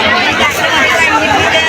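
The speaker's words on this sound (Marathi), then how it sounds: "काय इकडे किती गर्दी इथं" Loud, continuous crowd babble at the Rozoda temple yatra pilgrimage, with many voices chattering close by and no break.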